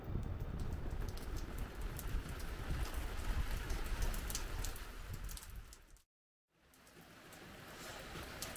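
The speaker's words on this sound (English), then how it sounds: "It started raining, I think, about midnight, and it's been pretty constant all night." Steady rain patters densely on a surface nearby, a constant hiss of drops, briefly cut off before resuming more softly.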